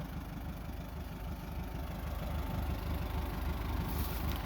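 A tractor engine idles steadily nearby, running smoothly, a low chugging rumble with a fast, even pulse and no voices.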